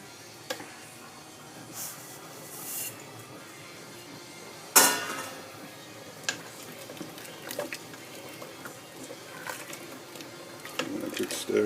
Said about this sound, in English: A good stir again.